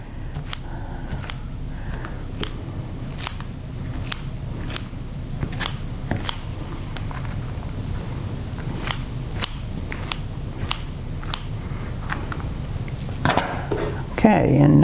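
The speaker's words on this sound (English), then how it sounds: "I will go through and chop it up a little bit" A knife chops shrimp on a cutting board in sharp, evenly spaced close taps, about one per second, over a low room hum, with a louder clatter at the very end.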